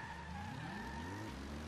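Car engine in the Metal Gear Solid 5: The Phantom Pain video game, a short steady motor drone with a rising engine tone, heard alone.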